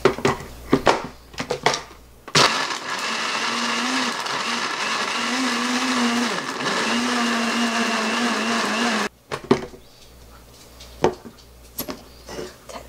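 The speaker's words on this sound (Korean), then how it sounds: "이렇게 해서 한번 갈아 볼게요" A blender grinding strawberries, banana, ice and strawberry syrup into a juice, a loud continuous whirring roar for about seven seconds, framed by knocks and handling clatter before and after.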